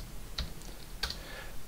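Two quiet, isolated clicks from a computer mouse or keyboard during desktop work in genome annotation software, set about half a second apart and heard close over a low background hum, with no voices.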